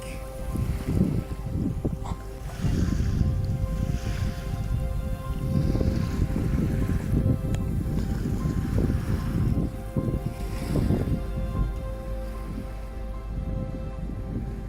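Sailboat running under its engine on a flat calm sea in very light wind, a steady low motor drone with water wash and wind buffeting on the microphone throughout.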